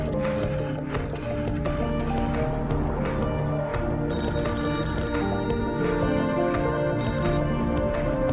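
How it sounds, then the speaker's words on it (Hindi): A telephone bell rings repeatedly in bursts, bright and insistent, over a busy background of music and other sounds. "अकबर के केबिन का फोन लगातार बज रहा है।"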